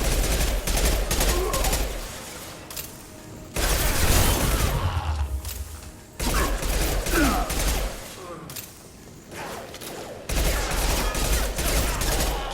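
Gunfire in the video game Mass Effect 2: rapid bursts of automatic weapon fire in several loud volleys, separated by brief lulls with softer mechanical clatter, and a voice speaking between shots.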